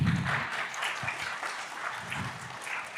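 Light, distant audience applause welcoming a speaker at a Kubernetes tech conference talk, steady and soft for a few seconds with no speech.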